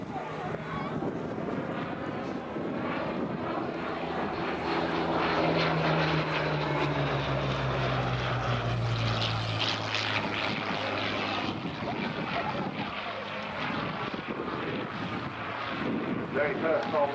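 A Hawker Hurricane fighter's propeller engine drones steadily overhead, loud and continuous, swelling in the middle as it passes, with some wind buffeting on the microphone.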